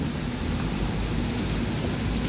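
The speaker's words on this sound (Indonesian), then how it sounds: "Kondisi terkini lagi hujan di terminal." Steady rain pours down at the Alang-Alang Lebar bus terminal, a dense continuous hiss with low rumbling underneath, constant and fairly close throughout with no talk.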